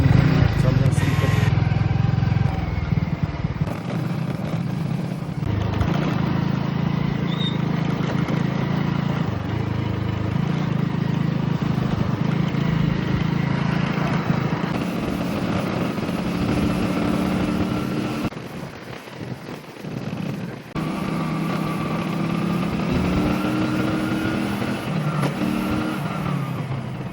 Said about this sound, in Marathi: गाडीला मारला स्टार्टर